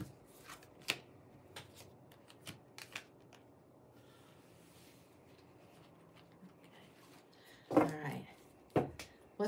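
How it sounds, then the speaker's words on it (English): Tarot cards are shuffled in a quiet room with a run of crisp, close riffling and tapping bursts scattered across the stretch, and a brief voice breaks in near the end. "Okay, time to get into the tarot-ish type of cards."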